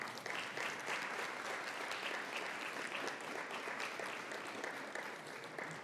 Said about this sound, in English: Could you give them a round of applause for what they do well?